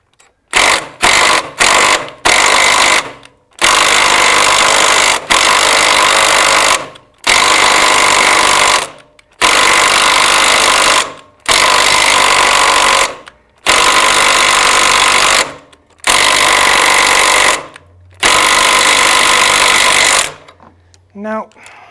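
Ryobi power tool working on a 1957 BMW Isetta runs in loud, close bursts of two to three seconds, pulsing on and off repeatedly, with a voice briefly heard at the end.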